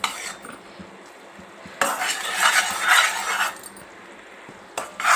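A utensil stirs foaming sugar syrup in a pan for dry fruit chikki, giving a steady close scraping and bubbling hiss that swells into a louder, busier stretch midway through, then settles, with no voices.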